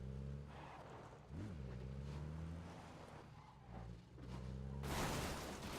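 Vehicle engine hum in the battle royale game PUBG during a 2018 Oceania esports qualifier match, a steady low drone with a brief rev, ending in a loud wash of noise, under a backdrop of game ambience.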